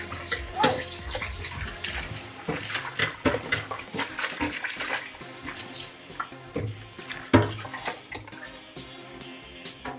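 Mutton liver is rinsed under plain running tap water, a continuous splashing stream with sloshing and clattering handling sounds close by, easing off near the end.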